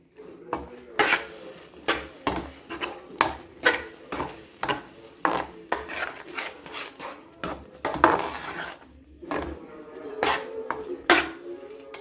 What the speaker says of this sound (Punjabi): ਹੁਣ ਆਪਾਂ ਇਹਨਾਂ ਨੂੰ ਵੀ ਮਿਕਸ ਕਰਦੇ ਹਾਂ